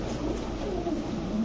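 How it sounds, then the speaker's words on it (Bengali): A grey female pigeon gives a brief, soft low coo against a steady background hum. "ওভারলাইট কালারে গ্রেবার মাদি কবুতর"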